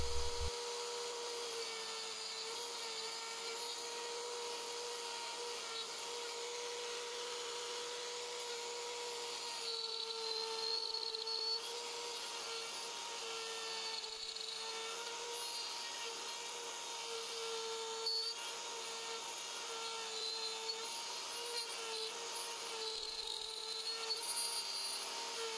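A power drill bores holes in a wooden sandeel fishing lure along a guide rail, giving a steady high motor whine that holds for many seconds with slight pitch wavers as the bit cuts.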